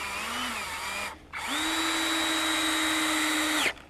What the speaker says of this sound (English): We need to add these wood screws into the stop bracket.